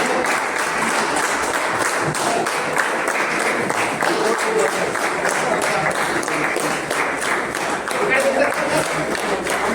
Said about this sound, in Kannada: ಈ ಸೈಡ್ ಚಪ್ಪಾಳೆ ಹಿಡಿದ್ರೆ ಜೋರು ಚಪ್ಪಾಳೆ ಹಿಡಿರಿ.